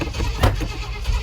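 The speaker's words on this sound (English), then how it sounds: "Backfire" A truck engine with timing slightly off backfires, a single sharp pop at close range over rough engine rumble.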